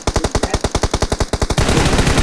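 Rapid automatic gunfire from a video game rattles in a loud, steady stream of close shots, then blurs into a dense roar of overlapping fire.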